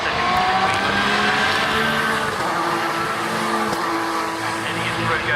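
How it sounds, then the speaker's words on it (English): British Touring Car Championship touring cars race past in a dense, continuous engine roar, several harmonic tones shifting as cars rev and change gear, loud and close throughout. "Mark Radcliffe in the 17 car leads the way from Peter Carl Henny, Adrian Barwick and Tackleton's Bastis"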